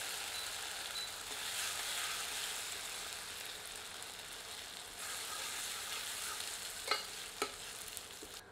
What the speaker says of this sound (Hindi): इसे प्याज के साथ मिलाकर मध्यम आंच पर 1 से 2 मिनट भूनते हैं